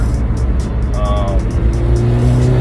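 A Volkswagen GTI engine with a K04 turbo, twin intercooler and lightweight pulley hums and climbs in pitch as it revs, heard from inside with a rhythmic ticking and a brief chime.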